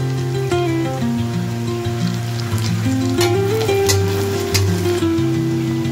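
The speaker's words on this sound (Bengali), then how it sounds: "এই সময় আমি শাহি জিরে দিয়ে দেবো, ঠিক মধ্যখানে সেন্টারে তেলের উপর।" Shahi cumin seeds hit hot oil beside browned onions and sizzle with a soft, continuous crackle, partly buried under steady melodic background music.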